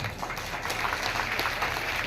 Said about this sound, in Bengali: ওনার জন্য একবার হাততালি দিন